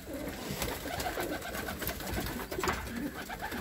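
Racing pigeons coo in a loft, soft throaty burbling calls repeating over a steady rustling background with no talk.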